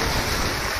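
Ocean waves wash up on Cherai beach in Kochi, Kerala, as a steady, close, broadband rush of surf and water with wind noise across the microphone and no pauses.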